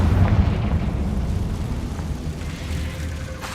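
Explosion spells from the game Hogwarts Legacy, Bombarda and Confringo, cast in quick succession, heard as a continuous low rumbling roar of blasts that fades slightly but stays heavy throughout.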